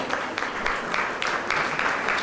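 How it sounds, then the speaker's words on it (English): An audience at a school annual day function claps steadily in a dense, sustained wave of applause, with rhythmic surges in the clapping and no speech over it. "Ladies and gentlemen, a round of applause."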